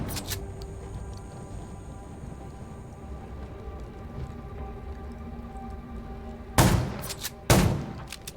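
Two sharp video game gunshots from the game Undawn ring out about a second apart near the end, following a stretch of low ambient hum.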